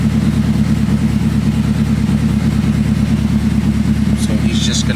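The GS-R AWD car's engine idles steadily and loudly during tuning, a constant low rumble that holds for the whole stretch with no talking over it.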